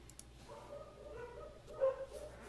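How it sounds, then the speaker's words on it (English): Several dogs bark excitedly at a distance, faint and scattered, with a louder yelp partway through over a quiet, steady background. "I don't know if you guys can hear the dogs, but they're going crazy."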